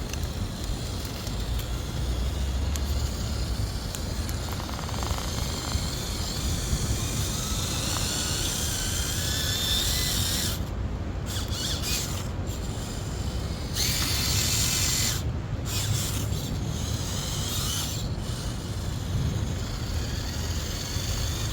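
A 1/12 scale RC 1941 Willys jeep on stock tyres crawls over rough ground, a continuous electric motor whine with broadband rumble and brief interruptions as it gets stuck, steady and fairly loud with no talking.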